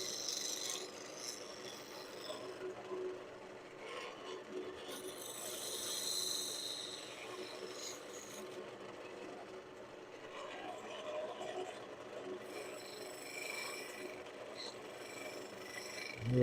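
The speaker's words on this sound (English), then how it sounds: "A little bit of shear scraping." Shear scraping on a wood lathe, a steady raspy scrape of a tool across a turning wooden collar, continuous and close with gentle swells in intensity throughout.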